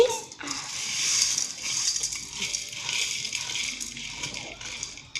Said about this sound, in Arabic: دابا غادي نكبوها كيف ما كتشوفوا معايا